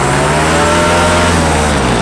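An engine howls at full throttle, a loud, continuous, rough roar held flat for the whole moment with no pauses.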